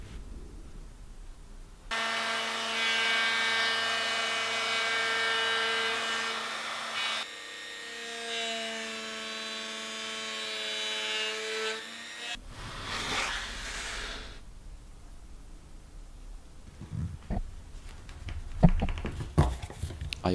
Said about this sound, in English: now I can route out the housing on the underside of the table